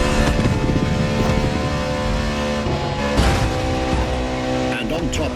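A Ferrari LaFerrari hybrid supercar drives in the racing game Motorfest, a loud, constant engine roar with faint tire noise, while a voice talks over it the whole time.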